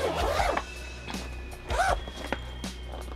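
Zipper on a Nintendo Switch 2 carrying case pulled open in a couple of quick, close rasping strokes, with soft handling clicks between them.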